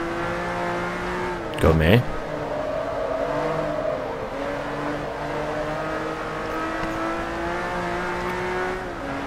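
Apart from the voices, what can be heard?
race car engine revving in video game Forza Motorsport 3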